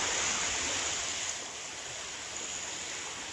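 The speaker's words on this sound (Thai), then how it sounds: "และแล้วก็ถึงน้ำตกที่สวยงามที่สุดนะครับ" A waterfall deep in a Thai forest, with more water spilling out of a cave below, roars in a steady broad rush that softens slightly after the first second, close and constant with no voices.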